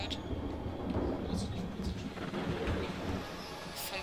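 Rumbling thunder mixed with steady rain in the horror video game Pineview Drive, a continuous stormy wash with low rolls throughout, fairly quiet, with faint talk in the background.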